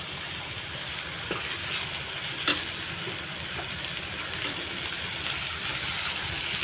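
Brinjal (eggplant) pieces sauté in a pan with a steady, even hiss of frying, broken by a few sharp clicks and scrapes of the spatula, one louder knock midway.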